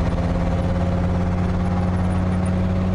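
A Ford 460 V8 in a loaded ramp truck with a ZF5 transmission drones steadily under load, a loud even hum with a constant pitch, sounding like high revs throughout.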